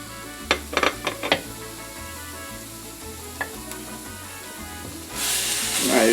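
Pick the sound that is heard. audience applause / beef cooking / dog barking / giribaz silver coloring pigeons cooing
beef cooking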